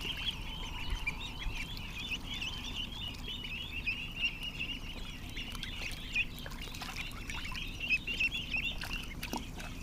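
Ducklings peep in a constant high chorus from a tub, a dense overlapping twitter of many small birds with a low background hum and no talking.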